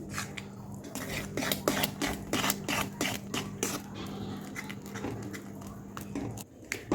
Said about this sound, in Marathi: मी चमचने सगळं मिश्रण मस्त असं मिक्स करून घेतलं आहे